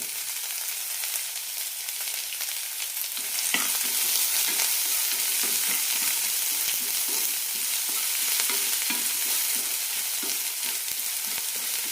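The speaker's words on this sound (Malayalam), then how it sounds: "ഇനി ഇതിലേക്ക് ചെറുതായി അരിഞ്ഞ സവാള പച്ചമുളക് കറിവേപ്പില ഇടാം" Chopped onion, green chili and curry leaves sizzle steadily in a hot pan, with a spoon scraping and stirring in a quick, uneven rhythm after the first few seconds, close and fairly loud with no talk.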